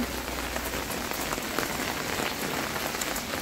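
Sudden rainfall in Al Ain, UAE, a steady dense patter of raindrops on surfaces, close and continuous with no voices.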